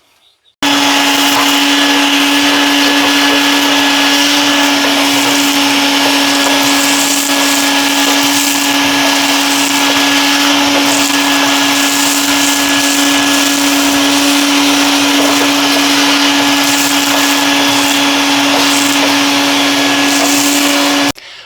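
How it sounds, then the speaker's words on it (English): A steady, loud motorized whine of a vacuum drawing up ash runs continuously without pause, with a constant pitched hum throughout. "So I'm going to go ahead and vacuum that all up"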